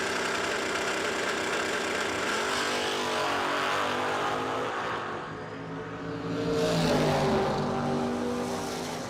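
Chevrolet Camaro drag car at a no-delay drag racing event, a loud sustained engine roar with rising and falling tone, the revs swelling again near the end.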